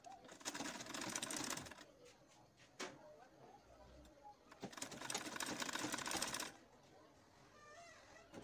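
A sewing machine sews the sleeve of a maxi ruffle dress in short, quiet bursts of rapid stitching, with a couple of longer runs separated by pauses and soft handling noises.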